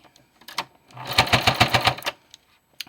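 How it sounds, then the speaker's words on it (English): A sewing machine back-stitches tabs onto blackout curtains. One short burst of rapid, rattling needle strokes lasts about a second, framed by soft handling clicks. "So I just tack them on there and do a little back stitch."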